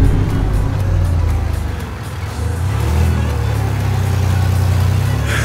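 A vehicle, likely a truck, pushes through flooded water on a rural property, its engine a steady low rumble mixed with continuous broadband sloshing and splashing, loud and close throughout without speech.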